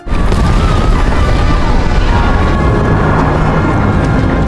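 A continuous, heavy roar of a blast fills the clip, loud and sustained with deep rumbling and crackling debris throughout.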